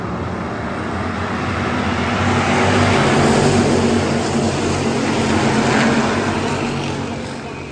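Hobby stock race cars roar around an oval track in a feature race, a steady engine drone that swells to a loud pass near the middle and then fades slightly, with no talk over it.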